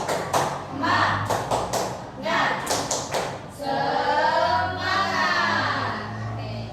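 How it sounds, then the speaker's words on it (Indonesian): A classroom of students performs a rhythmic clapping chant, bursts of sharp claps in patterned groups interleaved with children's voices chanting together, close and lively. "1, 2, 3. Tepuk semangat."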